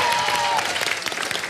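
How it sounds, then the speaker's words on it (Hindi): A television entertainment show audience gives a standing ovation, loud and dense clapping with some crowd noise mixed in, sustained at full strength for the whole moment. "जोरदार तालियां इनके लिए।"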